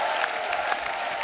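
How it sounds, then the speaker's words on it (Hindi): Audience applause for film stars Sunny Deol and Amisha Patel on a comedy talk show, a short steady burst of clapping at even loudness throughout. "एक बार जोरदार तालियां हो जाए सन्नी पाजी और अमीषा के लिए।"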